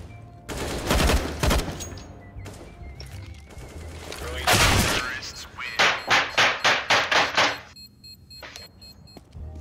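An AK rifle fires in a CS:GO match: loud bursts early on, then a rapid string of about eight evenly spaced shots, with metallic clangs and a voice talking between them.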